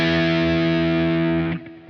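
A single sustained distorted electric guitar chord, a major one chord, ringing loud and thick alone before being cut off.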